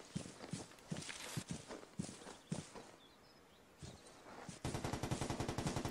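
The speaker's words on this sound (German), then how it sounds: "Ah ja, Schüsse im Fischerdorf." Gunfire in a fishing village in the video game Vigor: faint spaced thuds like footsteps, followed by a quick rhythmic run of distant shots, soft overall and without speech.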